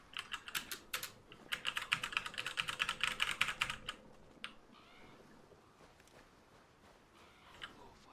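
WASD keys on a computer keyboard are tapped quickly in a dense burst of close, crisp clicks during Skull and Bones play. The burst then drops to a few scattered, quieter presses.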